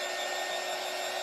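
A hair dryer blowing steadily over a painted canvas, a constant close whooshing hiss with no talking.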